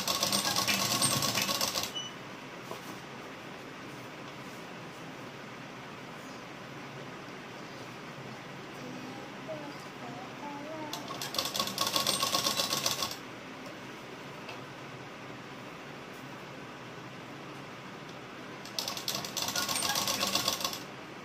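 A sewing machine stitches a princess-cut blouse with a deep neck in three separate bursts of rapid stitching, at the start, around the middle and near the end, with quiet pauses between them.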